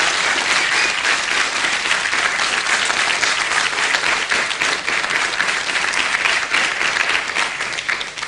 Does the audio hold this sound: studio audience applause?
yes